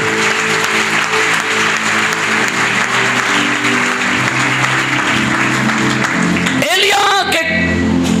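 Church congregation applauding during a Hindi-Punjabi sermon, a steady dense clapping that fills the clip, with a brief shuffle of other sound near the end.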